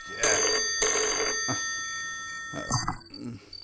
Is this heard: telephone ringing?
yes